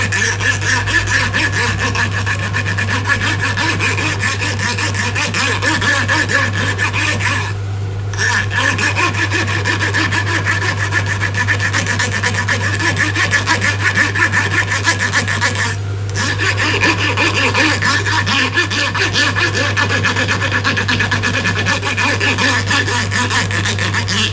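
A polishing tool working on gold jewelry chains, a steady, loud, continuous rubbing and rasping grind over a constant low hum, with two brief pauses.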